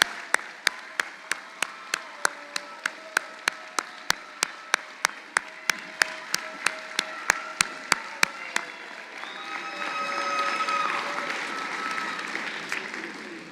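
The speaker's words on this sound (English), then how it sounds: "give a round of applause to these people in this room that have helped you get here" An audience applauds at a university commencement ceremony. Crisp, evenly spaced claps ring out at a steady pace, then blend into a broader wash of crowd applause and cheering toward the end.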